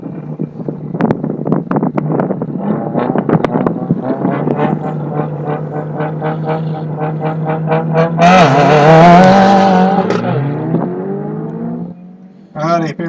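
Two white all-wheel-drive autocross cars, a Subaru WRX and a Mitsubishi Evo, at an SCCA ProSolo event at Crows Landing, launching side by side with loud rising engine revs and gear changes, buffeted by wind noise.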